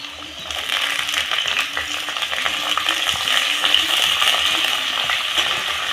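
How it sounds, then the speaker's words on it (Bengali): Sliced carrots and potatoes fry in a hot pan, a steady close sizzle with repeated scraping and clinking as they are stirred around, continuing without talk. "এখন এই নাড়াচাড়া করে গাজরটা আলুর সঙ্গে ভেজে নেব।"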